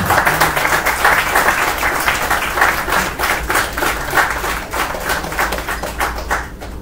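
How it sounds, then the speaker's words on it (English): Audience at a hackathon grand finale in Bangalore claps steadily, a close, loud patter of many hands that holds even and thins slightly toward the end. "Very good, round of applause."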